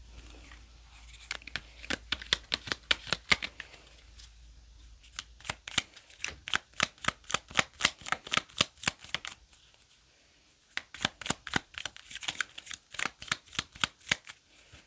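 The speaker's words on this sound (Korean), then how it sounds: "메시지 카드 뽑을게요." Message cards for a tarot-style card reading being shuffled by hand, close and fairly quiet, in rapid rhythmic bursts of riffling flicks separated by short pauses.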